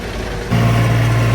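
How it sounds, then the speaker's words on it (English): A wood chipper runs with a steady loud mechanical drone that jumps in level partway through as dead tree wood is fed in, a sustained low hum throughout. "John's just feeding it straight into the chipper now."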